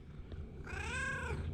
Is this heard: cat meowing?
yes